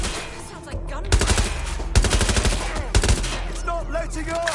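Bursts of automatic gunfire crack out in Watch Dogs Legion, three loud rapid volleys about a second apart over a rumbling low background, with faint radio-like chatter between them.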